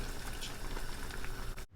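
Salmon head sinigang broth boiling in a pot, with sweet potato leaves in it: a steady close bubbling and simmering that runs evenly, then cuts off abruptly near the end.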